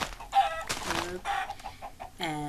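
Chickens cluck in the game Minecraft, several short close clucks and squawks in quick succession, loud and clear with no talk.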